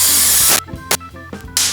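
CO2 gas blasts out of a pressurized gas cylinder at a cocktail bar in loud, harsh hissing bursts: a long rush, a brief quick spurt, then the hiss surges again at the end.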